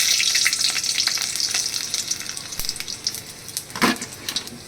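Garlic pieces and a whole cardamom pod fry in hot oil, giving a loud, dense, hissing sizzle that eases slightly partway through, with a couple of sharp utensil knocks and a brief spattering burst near the end; no one speaks.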